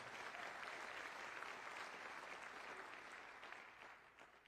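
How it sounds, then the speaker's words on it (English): An audience at a Tulsa State of the City address applauds the fire and police honor guard, a steady, fairly faint wash of clapping that tapers slightly toward the end. "Absolutely, give them a round of applause."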